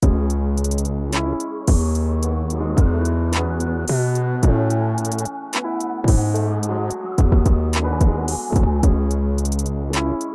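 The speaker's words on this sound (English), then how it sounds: "And you can hear that the 808s is still in a high octave." A deep, punchy 808 bass line on an MPC, pitched in a high octave, plays a rhythmic pattern under sharp hi-hats and drums, loud and steady with no talking.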